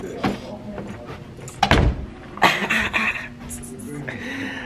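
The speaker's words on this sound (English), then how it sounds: "I'm finna close the door." Door closing indoors with a sharp thud partway through, followed by rustling and bumps while people talk and laugh around it.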